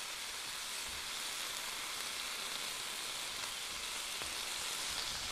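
Meat browning in a hot pan for a stir fry, giving a steady, even sizzle that continues on its own without a break.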